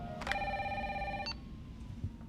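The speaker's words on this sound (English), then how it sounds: "She receives a frantic phone call from Brad Vickers, the pilot that left Jill in Resident Evil 1" A telephone rings in the video game Resident Evil 3 Remake, giving one bright, trilling electronic ring about a second long over a low, rumbling background hum.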